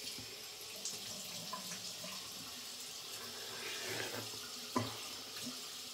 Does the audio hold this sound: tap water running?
yes